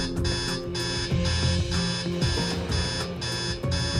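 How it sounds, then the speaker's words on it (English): An alarm rings continuously in the Hell's Kitchen quarters, loud and close, a harsh metallic clock-style bell pulsing in steady rhythmic bursts with no talking. "it will not stop ringing until one of us hits that red button"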